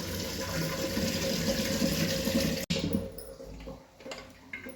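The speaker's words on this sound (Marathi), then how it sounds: "दिवे बुडतील इतकं पाणी आपल्याला त्यामध्ये सोडून घ्यायचंय" Water pours into a pressure cooker in a home kitchen, a steady close splashing fill for a few seconds that cuts off abruptly, followed by quieter clinks and handling sounds.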